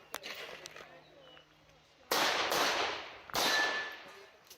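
Gunshots at a USPSA practical shooting match, two sharp loud cracks with long echoing decay a second or so apart, following quieter shuffling and faint handling noise earlier.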